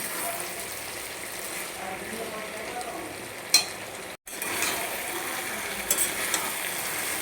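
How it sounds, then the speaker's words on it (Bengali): A fish head is stirred into vegetables in a hot pan for a Bengali chhechra dish, giving a steady broadband sizzle with scraping stirs, one brief dropout midway and a few small clatters. "মাছের মাথাটা দিয়ে দেব দিয়ে ভালোভাবে নাড়াচাড়া করে নিয়ে আর কি সবজির সঙ্গে মাখিয়ে নেব"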